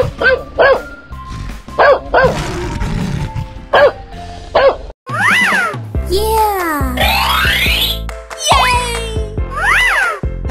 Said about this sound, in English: Dog.